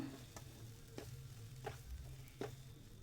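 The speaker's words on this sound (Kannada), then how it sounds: "ಈಗ ತಣ್ಣಗಿರುವಂಥ ಅನ್ನನ ಹಾಕ್ಕೊಳ್ತಾ ಇದ್ದೀನಿ ಚೆನ್ನಾಗಿ ಮಿಕ್ಸ್ ಮಾಡಬೇಕು" Cold cooked rice stirred and mixed in a pan for capsicum chitranna, with a spatula scraping in four distinct strokes over a low sizzle, close and fairly quiet, no voices.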